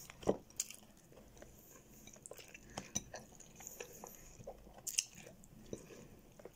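Someone chews fried eggs close to the microphone, giving soft, irregular wet chewing and squishing sounds with a few sharper clicks of cutlery, quiet overall and without talk.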